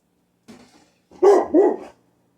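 A pet dog gives two close, loud barks in a quick pair inside a home kitchen, after a short softer yip or whine.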